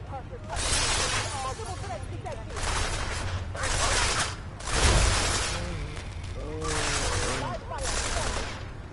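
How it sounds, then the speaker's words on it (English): Repeated bursts of rapid gunfire in Deus Ex: Mankind Divided, loud and close, with several volleys spaced across the clip and voices talking over the shooting. "Come on, I heard gunfire!"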